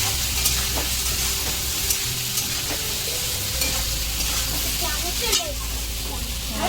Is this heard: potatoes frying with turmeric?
yes